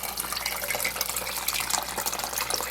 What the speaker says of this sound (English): I'm just gonna cover everything with filtered water